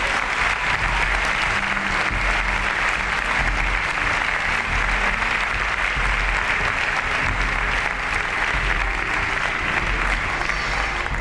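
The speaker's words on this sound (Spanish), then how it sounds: "Demos un aplauso al Rey." A church congregation claps loudly and steadily for several seconds, a thick, sustained wash of applause with no break.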